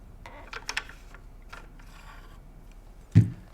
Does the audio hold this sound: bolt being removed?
yes